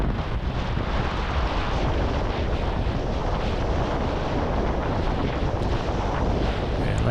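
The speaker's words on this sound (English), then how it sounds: "it was windy, and I was on my tippy toes for sure" Strong wind buffeting the microphone while kitesurfing in the surf, a constant loud roar with no break and no clear voices.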